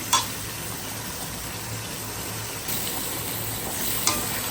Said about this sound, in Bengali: মশলাটা ঘনা হচ্ছে এখন রোস্ট হচ্ছে